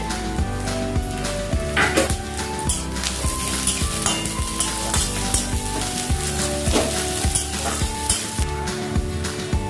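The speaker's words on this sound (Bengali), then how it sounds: "পেঁয়াজটাকে ভালো করে ভাজা ভাজা করে নিতে হবে" Onion and slit green chillies frying in a pan for a Bengali shafla fish dish give a continuous close sizzle, with repeated scraping stirs and light clinks of a utensil against the pan.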